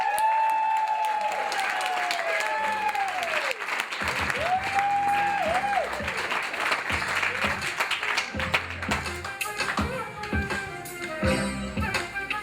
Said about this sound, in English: Everybody please make it loud as possible for dear old dad, Richard.